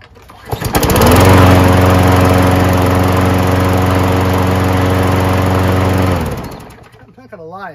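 A push lawnmower engine, just repaired, starts up and runs loud and steady for about five seconds before cutting out and winding down, followed by a brief voice.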